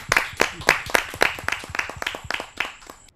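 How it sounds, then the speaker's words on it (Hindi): Audience members at a Hindi poetry gathering clap to welcome a poet, a sparse series of distinct, fairly close handclaps in an uneven rhythm that fades toward the end. "आप सबकी जोरदार तालियां।"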